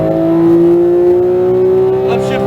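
A Porsche 911 GT3 of the 991.2 generation accelerates on a race track, its engine note holding a steady, loud tone that climbs slowly in pitch, close up and with no talk over it.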